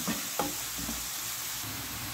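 Vegetables fry in cooking oil in a pan, a steady close sizzle with a couple of faint knocks early on, and no voices.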